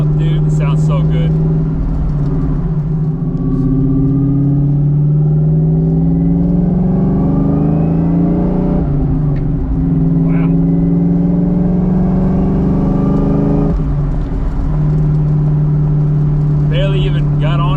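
A 2.1-litre non-intercooled Kitty Bell turbo car engine runs on a cold day, revving up in repeated rising sweeps with a steady, loud drone, while a voice exclaims briefly over it.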